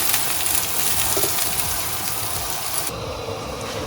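Pepper sauce frying in a pan, a dense, steady sizzle with faint crackles that softens near the end, close and alone without talk.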